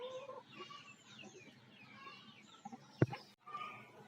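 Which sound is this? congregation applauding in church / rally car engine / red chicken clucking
red chicken clucking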